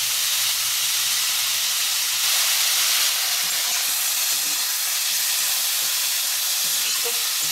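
Chicken for bone soup frying in a pan with salt, a loud, close, continuous hissing sizzle that stays even throughout, with faint stirring knocks underneath.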